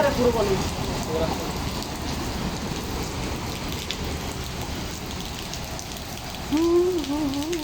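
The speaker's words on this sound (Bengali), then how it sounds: "খুব বৃষ্টি হচ্ছে" Heavy rain pours down in a dense, steady hiss, close and continuous, with faint voices in the background.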